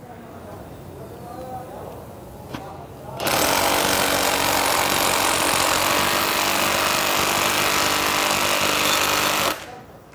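Hilti impact wrench driving an HUS 3 M10 screw anchor, a loud, steady hammering rattle that starts abruptly, runs continuously for about six seconds, then cuts off, with quieter background before.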